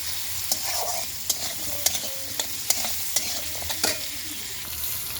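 Vegetables fry in a pan with salt and turmeric added, under a constant sizzle. A spoon scrapes and clacks against the pan in a loose, repeated rhythm, close and clear, with no voices.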